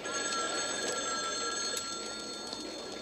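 A telephone rings steadily, a continuous bright bell-like trill heard alone over a soft background hiss.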